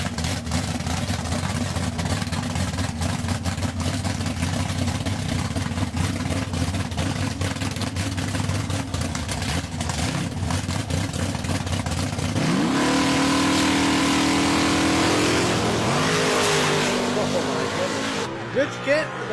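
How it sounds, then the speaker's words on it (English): A 600-cubic-inch alcohol-burning big block Ford in a Pinto drag car at a drag strip, with an announcer talking steadily over a loud engine drone that surges into a rising rev about two-thirds of the way through. "Rich Kent, 600 cubic inches of alcohol burning big block Ford in the Alpha Pinto, dialed in at 563."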